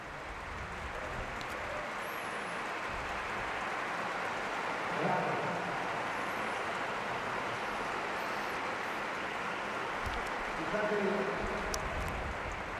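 Sustained applause from an audience at a talk, a dense steady patter of many hands clapping throughout with slight swells, no voices on top.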